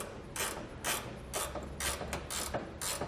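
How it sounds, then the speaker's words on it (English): Nut being tightened onto a B and W fifth wheel base rail kit installed on a 2011 Ford F-250, with repeated ratchet clicking in about five or six steady bursts, close and moderately loud, with no talk. "get that nut on there. Then just tighten it up a little bit"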